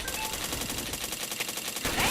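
Rapid gunfire from the PointBlank video game, fast regular bursts of automatic shots repeating steadily across the clip, with a brief pause then more firing near the end.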